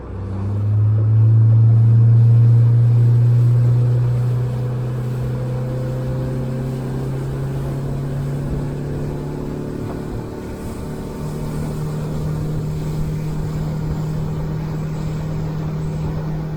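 Low, heavy drone of a boat's outboard engine trimmed all the way in, running steadily, loudest at first and then settling into a constant rumble with a deep hum.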